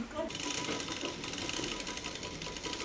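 A sewing machine stitches the seam of a pair of plain pants, with a fast, continuous needle chatter that stays close and loud throughout, while a voice speaks over it.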